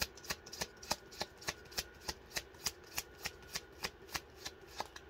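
Angel cards are shuffled by hand in a steady, rhythmic series of crisp riffling ticks, about three per second, close and quiet, with no talking.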